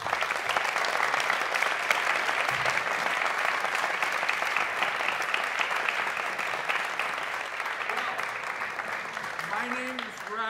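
A concert audience gives sustained, dense applause for a big band at a celebration-of-life performance. The clapping is steady throughout, and a voice speaks briefly near the end.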